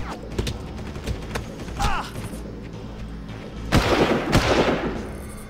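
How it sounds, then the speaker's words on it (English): Enemies fire at the player in the shooter game Far Cry, with scattered gunshot pops and thuds over game sounds, and a louder cluster of shots near the end. A voice talks over it. "Who the hell's shooting me?"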